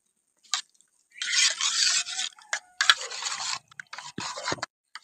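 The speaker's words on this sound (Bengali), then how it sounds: "তো এই গুঁড়ো দুধটা এখানে মিশিয়ে ভালো করে একটু গুলে নেব" Powdered milk being stirred into warm water in a bowl, heard as close, intermittent bursts of scraping and rubbing separated by short pauses.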